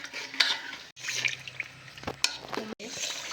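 Jaggery melting in ghee is stirred in a pan for Gujarati babool gond pak, a steady scraping and sizzling texture broken by short gaps and a few sharper knocks of the spoon.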